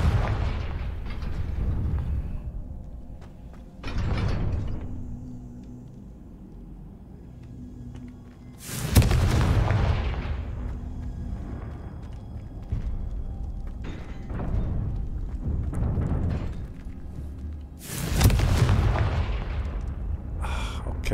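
Repeated Confringo fire-spell explosions in Hogwarts Legacy, several loud booming blasts spaced several seconds apart, each trailing off into rumbling game noise.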